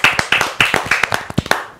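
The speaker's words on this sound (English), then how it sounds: "round of applause for RT plus Q." Brisk clapping from the audience at the Tatler Design Awards 2021 as RT plus Q is named winner, a close, uneven patter of hands over about two seconds with no voices.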